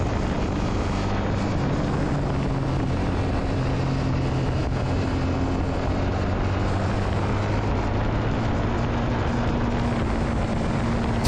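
A steady engine drone with a low, constant rumble and heavy wind buffeting throughout, as a Royal Enfield Shotgun 650 cruises along at speed through the canyons of Los Angeles.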